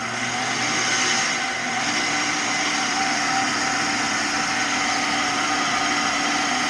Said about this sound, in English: I got the motor working, but it only works if in forward